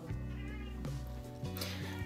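A pet cat meows in a short, drawn-out call at close range, with steady background noise in a home setting and no talk over it.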